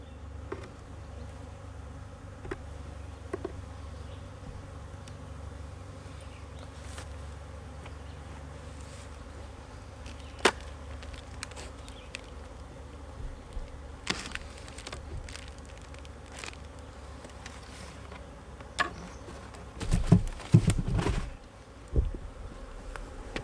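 A calm honeybee colony hums steadily at a swarm hive on a morning during a queen introduction to a laying-worker colony, a continuous close drone with a few louder bursts from bees flying near the end.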